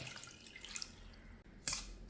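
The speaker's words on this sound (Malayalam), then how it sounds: "ഒരു കപ്പ് വെള്ളം ഒഴിച്ചു കൊടുക്കാം" A cup of water is poured into a saucepan holding china grass (agar agar), heard as a quiet trickle and then a short splashing gush near the end.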